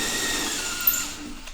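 A power drill whirs steadily at high speed, boring a hole through the pop top roof of a Westfalia van, loud and continuous with no talk.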